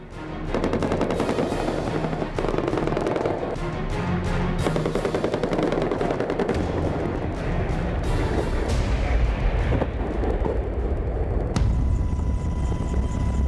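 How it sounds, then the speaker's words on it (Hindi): A US Army military helicopter flies loud and close during an attack on a hillside Taliban position, its rotor drone mixed with bursts of rapid machine-gun fire, then a steadier engine whine at the end. "हेलीकॉप्टर हवा में उड़ती वो वॉर मशीन"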